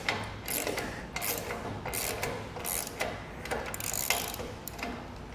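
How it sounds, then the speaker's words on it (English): Nut and bolt being undone on a channel-tongue trailer coupler, heard as a steady run of close mechanical ratcheting clicks with rhythmic scraping, loud and continuous for several seconds with no talking. "we're just gonna get this one taken off by undoing the nut on the driver's side here and the bolt."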